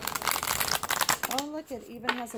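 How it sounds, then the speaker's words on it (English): Tarot cards being shuffled by hand, a brisk riffling and crinkling burst up close, followed by someone speaking briefly as the shuffle trails off. "Let's shuffle these up."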